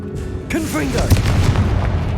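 Confringo blasting spell going off in Hogwarts Legacy, a deep booming blast that rumbles on for over a second, with a shouted spell voice layered over it.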